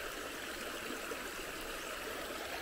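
Floodwater in a rural creek rushes steadily past, a continuous broadband wash of flowing water with no pauses, fairly close and alone without any talking.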